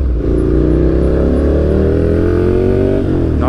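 A Ducati Nightshift motorcycle with an ORION exhaust and its catalytic converter removed revs loud and close, the engine note climbing steadily for a few seconds before a sharp blip at the end.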